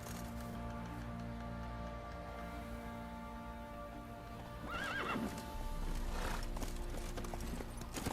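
A video-game horse named Roach whinnies and its hooves clip-clop over a steady humming game soundscape, the horse sounds brief and moderately loud in the later part.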